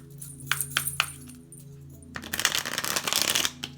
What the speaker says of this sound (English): That was a bum shuffle. We're gonna do one more.